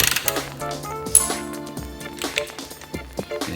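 A torque wrench ratchets in quick clicking runs while tightening bolts on a Chevy 348 engine, close and distinct, with short pauses between strokes.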